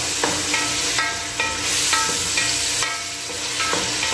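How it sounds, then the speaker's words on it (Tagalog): Crushed tomatoes sautéing in a hot pan for goat offal champene, a steady close sizzle and hiss broken by regular scrapes of stirring, with no voices. "Gisa natin ang magandang gisa yung ating kamatis."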